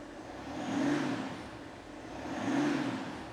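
A BMW G26 M440d xDrive with its straight-six diesel engine running and revving, two smooth swells of engine note rising and falling, heard fairly close without talk.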